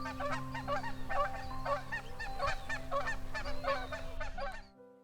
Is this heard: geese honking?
yes